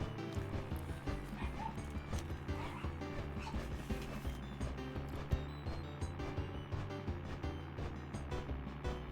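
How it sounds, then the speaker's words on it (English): Dogs bark intermittently at a distance in the background, with faint yips under a steady low droning bed of sound. "You also hear dogs barking in the background"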